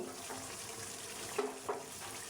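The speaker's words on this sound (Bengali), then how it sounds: "আমি পরিমাণ মতো ঘি দিয়ে দিচ্ছি।" Ghee goes into a hot pan of home cooking, giving a soft steady sizzle and frying hiss throughout, with a couple of small clinks or pops near the end and no talking.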